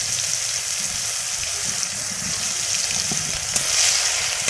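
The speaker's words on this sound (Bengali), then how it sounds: "এবার দিয়ে দিছি রসুন" Garlic frying in a pan for a Bengali-style dal with whole cumin and garam masala, giving a steady, close sizzle and crackle throughout with occasional stirring scrapes.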